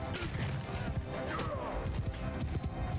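Horses gallop with rapid clip-clop hoofbeats through a busy battlefield in Mount & Blade II: Bannerlord, the steady drumming mixed with whinnies and combat clatter at a constant loudness.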